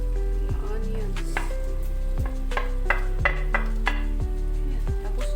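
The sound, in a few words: onions sizzling in pan for vegetable stir-fry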